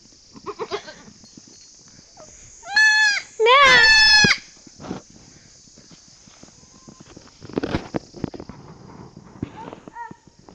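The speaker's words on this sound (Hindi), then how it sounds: "ये है बकरी प्यारी सी।" A small village goat gives two loud, close bleats in quick succession. Softer rustling, footsteps and faint background sounds come before and after.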